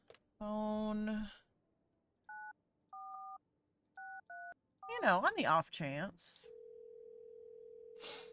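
Telephone keypad tones in a video game: several short, evenly spaced beeps dialed in sequence, followed by a steady dial tone. A voice speaks briefly between the beeps and the tone.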